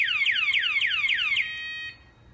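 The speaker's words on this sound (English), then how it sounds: "There's the alarm." A home security system alarm triggered by a motion sensor beeps in a rapid series of descending chirps, about six repeats, then holds a steady tone before cutting off.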